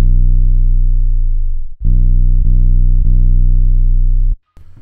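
A heavy synthesized bass built from Logic instruments booms with deep sustained tones, one long swelling note that fades out, then several punchy repeated hits, loud and alone before cutting off.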